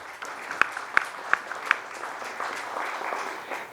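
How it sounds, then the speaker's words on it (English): Audience applause at a Bank of Baroda MSME conclave in a hall, a few sharp distinct claps at first, then a soft, fairly faint spread of clapping from a modest crowd. "A round of applause."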